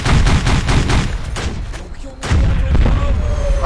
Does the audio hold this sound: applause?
no